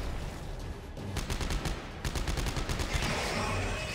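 Rapid gunfire from the player's weapon in Dead Space 3, a fast string of sharp, loud shots in two quick bursts with a short pause between them, set against a dense game soundscape.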